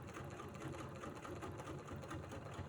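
A sewing machine stitches continuously up close, a quiet, rapid even rhythm while couching fibers between embroidered petals.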